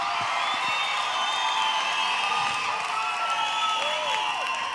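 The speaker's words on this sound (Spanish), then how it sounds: "Un aplauso para Elianis, por favor." Audience applause and cheering for Elianis at a Panamanian TV show gift presentation, a steady, continuous crowd wash with scattered whoops and voices throughout.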